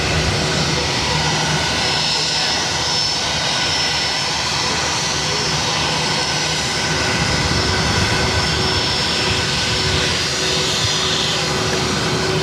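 A Condor jet airliner at Boston Logan airport produces a loud, continuous engine roar that swells and holds steady throughout.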